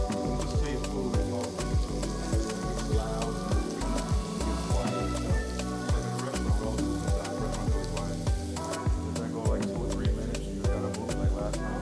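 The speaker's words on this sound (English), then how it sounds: "I love the sound of like sizzling." Busy crackling sizzle of mushrooms in a hot pan, dense popping and spitting throughout, close and steady, with some rhythmic stirring or scraping knocks.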